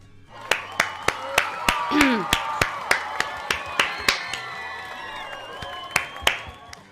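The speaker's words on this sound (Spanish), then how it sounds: "Oye, un aplauso, gente." Scattered applause from a small audience at the close of a Spanish-language talk, with sharp separate claps ringing out over a murmuring crowd and overlapping voices, fading toward the end.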